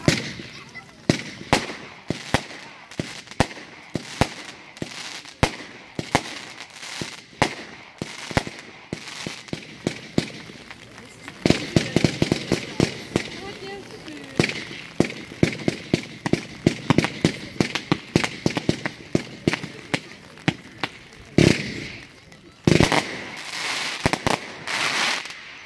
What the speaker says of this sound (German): Zündpunkt 16, Flying Sparks, 53 Schuss, 30 Sekunden Brenndauer zu 24 Euro. Ein Komplettfeuerwerksbatterie mit großem Finale.